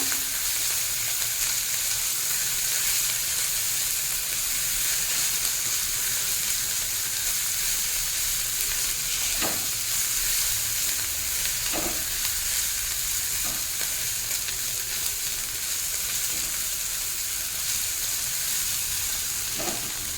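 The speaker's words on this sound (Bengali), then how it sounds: "আদা রসুনটাও ভাজা হয়ে গেছে।" Ginger-garlic paste fries with small mourala fish heads in oil over high heat, a loud, continuous sizzle broken by a few sharp scraping stirs of a spatula against the pan, with no talking.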